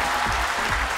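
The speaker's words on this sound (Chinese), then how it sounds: "掌声鼓励" Studio audience of a televised quiz show applauding continuously, a steady dense wash of clapping at moderate level with no voices over it.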